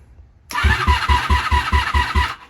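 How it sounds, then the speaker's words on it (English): A 1987 Honda Super Magna VF700C motorcycle engine, unstarted for six months, cranks over with a rapid, rhythmic chugging of about eight strokes, close and fairly loud, then cuts off without catching. "let's see if we can get her to crank"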